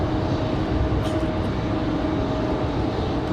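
A United Airlines airliner at Raleigh-Durham airport, its engines producing a loud, steady broadband roar with a faint whine, continuous and close throughout, no voices.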